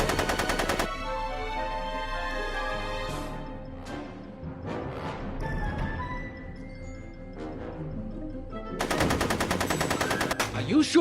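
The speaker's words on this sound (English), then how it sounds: "Are you shooting at me?" Rapid automatic gunfire from the Back to the Future video game rattles in loud sustained bursts at the start and again near the end, with game music and effects filling the stretch between.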